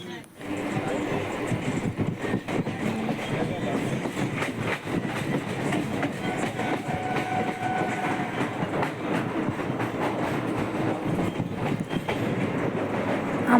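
A passenger train runs along the rails with a steady rumble and clickety-clack heard from inside a carriage, continuous and moderately loud, with some wind noise.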